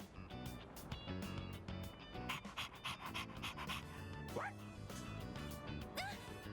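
Dog panting rapidly and steadily in the video game Persona 3 Reload, rhythmic quick breaths close up with a couple of brief squeaky yelps mixed in.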